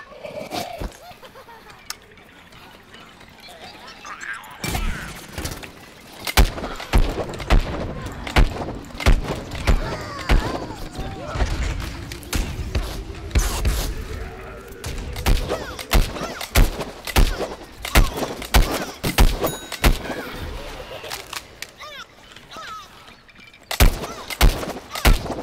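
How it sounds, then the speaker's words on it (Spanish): Gunfire rattles through a Plants vs Zombies: Garden Warfare match, with sharp shots and short bursts scattered irregularly across the stretch, some close and loud, others fainter, amid game noise. "Están disparando, Esther."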